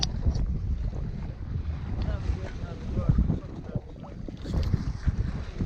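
A sailboat moving under sail alone with no engine, its hull sloshing through shallow water while steady wind buffets the microphone in a low continuous rumble.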